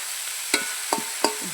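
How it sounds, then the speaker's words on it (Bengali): A chili fries in ghee, with three distinct clattering stirs against the pan over a soft, faint background sizzle, close and with no talk. "এই যে একটা ঘিয়ে লঙ্কা দিয়ে দিচ্ছি"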